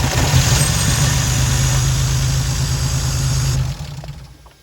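A BMW E46 with the M54 engine is cranked as it tries to start, a steady mechanical churning that runs for several seconds and then stops abruptly, leaving a brief fading tail.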